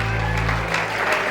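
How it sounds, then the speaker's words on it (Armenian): Guests at a wedding celebration applaud the godfather and godmother, a short burst of steady clapping with a low hum running beneath it. "ու եւս մեկ անգամ ծափարում բարձր"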